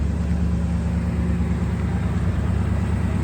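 A 1963 Ford Galaxie 500 XL convertible engine idles at a low, steady rumble on a cold day, heard close and continuous with no voices over it.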